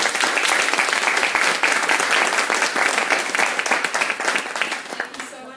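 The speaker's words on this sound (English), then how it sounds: "if everyone could just give them another huge round of applause" An audience applauds the final speakers at an evening library event: dense, sustained clapping from a full room that tapers off toward the end.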